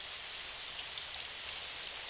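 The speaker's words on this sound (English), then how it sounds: "The rain has begun to fall harder." Steady, heavy rain falls harder outside a dormitory in the visual novel Nurse Love Addiction, a dense, even hiss of drops on surfaces that stays constant and close throughout with no voices.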